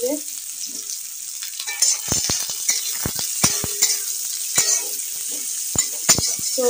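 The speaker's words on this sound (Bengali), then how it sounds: "তো পেঁয়াজটা একটু ভাজা ভাজা হোক" Onions fry in hot oil in a pan, a soft steady sizzle broken by repeated sharp clinks and scrapes of a metal spoon stirring, close and without talk.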